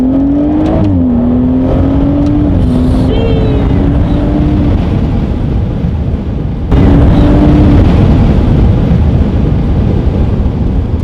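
A BMW 340i accelerates hard, its engine note climbing loudly and dropping sharply at each quick gear shift, with a heavy rumble throughout and a brief break before it pulls again.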